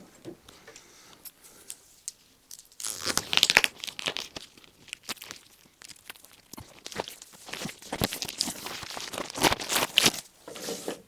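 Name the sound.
mohair canvas fabric being handled, crinkling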